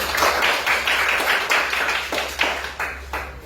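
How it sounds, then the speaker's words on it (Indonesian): A small group claps in a quick, steady rhythm for a few seconds, fairly close and loud, with no talking over it. "Kasih tepuk tangan untuk kelompok 2."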